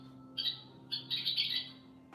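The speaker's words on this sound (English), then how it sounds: "So a little high chirp there." Western Kingbird giving short, high chirping calls, a brief note followed by a busier burst of twittery chirps, close and clear against a faint steady background hum.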